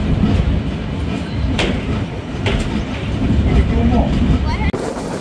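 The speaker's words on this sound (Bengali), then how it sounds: "9টা বেজে 41 মিনিটে ট্রেনটি ছেড়ে যাচ্ছে বড়াল ব্রিজ" The Silk City Express pulls out of Boral Bridge station with a loud, continuous rumble and rolling wheel noise, punctuated by a few sharp clanks.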